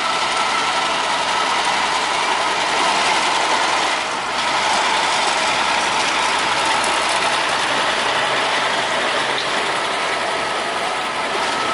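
Sugarcane train locomotive at PG Semboro mill rolling through a village at night, a steady loud mechanical rumble with clanking, ratcheting wheel and coupling noise running continuously close by.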